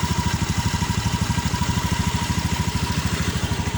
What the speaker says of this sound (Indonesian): suara starter mesin, dan juga suara mesinnya halus